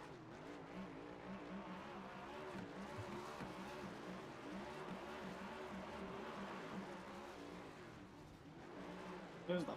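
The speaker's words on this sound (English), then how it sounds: "There's the 5 doing burnouts in pit road" Race car engine in the iRacing sim, doing burnouts on pit road at Bristol, a steady droning roar with shifting revs and a tire squeal that continues throughout, with a small bump at the very end.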